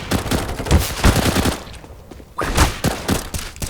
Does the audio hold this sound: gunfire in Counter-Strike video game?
yes